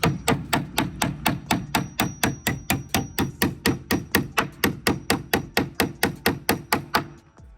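Hammer driving nails into redwood boards on a barrel sauna, a steady run of about twenty-five sharp, evenly spaced strikes, close and loud with no talking.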